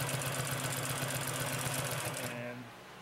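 A Consew P2339RB industrial sewing machine stitches at close range with a fast, steady mechanical chatter and motor whir, then stops abruptly, leaving a quiet hum.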